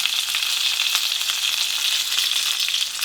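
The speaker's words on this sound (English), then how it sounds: "And I will fry the next batch." Pork and cabbage egg rolls fry in hot oil with a steady, dense sizzle that holds at an even, fairly loud level from start to finish, with no voices.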